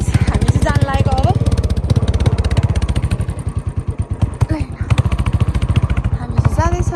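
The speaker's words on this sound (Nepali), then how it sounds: "अब हामी चाहिँ थोरै सामान किन्नु छ, त्यही भएर हामी चाहिँ यता गाउँमा जाँदैछौँ बाइक लिएर।" A motorbike carries riders toward a village market, its engine throbbing in a steady pulsing rhythm close to the microphone while voices talk over it.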